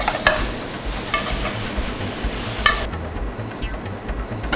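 Spinach and garlic fry in a hot pan with a steady, dense sizzle that holds for several seconds, broken by a few stirring scrapes near the start and middle, and the hiss drops in brightness toward the end.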